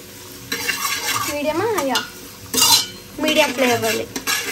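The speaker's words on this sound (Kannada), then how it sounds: "ಅದು ಫುಲ್ಲು ಗೋಲ್ಡನ್ ಬ್ರೌನ್ ಆಗೋ ತನಕ ಇದನ್ನು ಫ್ರೈ ಮಾಡ್ಕೊಳ್ಳಿ" Potatoes for aloo dum biryani fry in a pan on medium flame until golden brown, with loud irregular scraping and clinking of a spoon against the pot over a soft sizzle; a brief voice-like tone surfaces.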